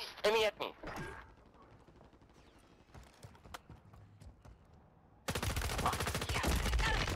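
Bursts of video game gunfire in a multiplayer shooter, a few near shots early, then faint scattered reports, then a loud, dense stretch of rapid fire at the end, with voices talking under the action.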